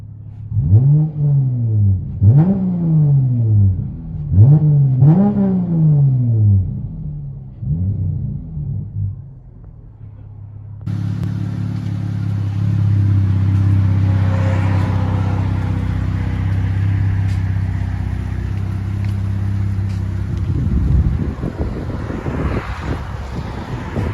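Dodge Challenger with a 3.6L V6 and loud aftermarket exhaust heard from inside the cabin, first several rising revs in quick succession, then a steady deep drone with rumble and wind noise.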